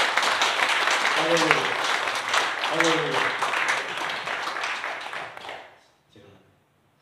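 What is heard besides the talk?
congregation applauding at a church service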